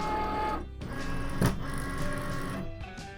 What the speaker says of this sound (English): Now you can select Continue and feed the mat into your Cricut.